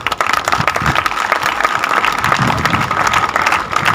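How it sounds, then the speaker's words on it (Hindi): An audience at the opening of a 65th district-level basketball tournament in Dundlod applauds steadily, dense continuous clapping from many hands throughout. "तालियां बजाओ, तालियां बजाओ"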